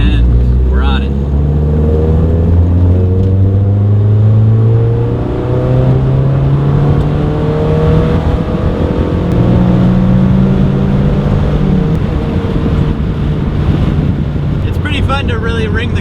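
Driven hard, an NC Mazda Miata with a 2.5 engine swap revs up in repeated rising pulls broken by gear changes, a loud close engine drone backed by constant wind noise.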